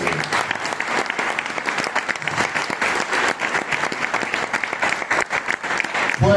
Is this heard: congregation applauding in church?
yes